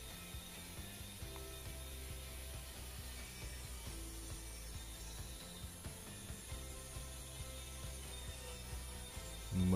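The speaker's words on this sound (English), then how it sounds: "And using the bandsaw here to make it a little bit quicker to cut out these tails." A bandsaw cuts dovetail tails in wood for a keepsake box, running as a steady mechanical drone with faint repeated clicking throughout, close and continuous with no talk.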